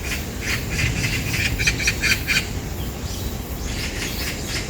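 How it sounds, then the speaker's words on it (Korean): A flock of magpies squabbling outdoors in a territorial fight, heard as dense bursts of harsh chattering calls, fairly steady and moderately near, over a constant background hiss. "까치들이 싸우고 있어, 단체로"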